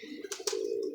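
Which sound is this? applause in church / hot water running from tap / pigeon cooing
pigeon cooing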